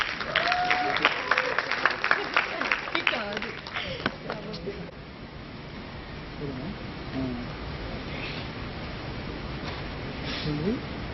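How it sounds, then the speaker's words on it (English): Loud applause from a TEDx talk audience, dense clapping that swells for a few seconds, then thins and fades into a murmur of room noise. "Please a huge round of applause for her today."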